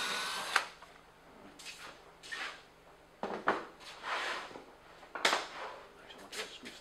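A cordless drill driving screws into a flat pack cabinet, several short whirring bursts separated by pauses, fairly quiet and close.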